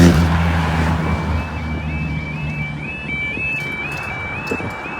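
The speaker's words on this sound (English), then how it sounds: "And the cars are going through." Cars roll through a railway level crossing at Metheringham beside the lowered barriers, a steady close engine rumble with a high stepped warning tone running over it and no talk.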